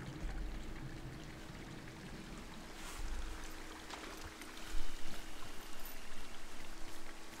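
A stream bends through the forest in the video game Firewatch, flowing with a soft, continuous babble and trickle that stays quiet and steady, with no voices over it.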